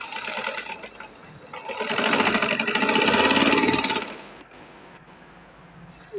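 A sewing machine stitches a sleeve, its needle running in a fast, even whir that rises louder in the middle and then stops, leaving brief quiet clicks.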